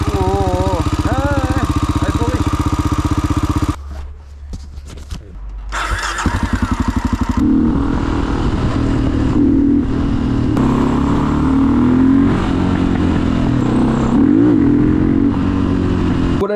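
A Honda Dominator motorcycle fitted with an FCR41 carburetor revs loudly and then cuts out briefly. After a few sputtering pops it picks back up into a rough, throbbing idle with occasional blips of throttle.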